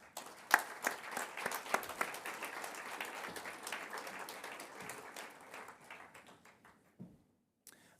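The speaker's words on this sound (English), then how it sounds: "please help me give them a round of applause" Audience applause welcoming panelists at a hydrogen innovation forum, a dense wash of many hands clapping in a hall that tapers off toward the end, with a couple of louder isolated claps.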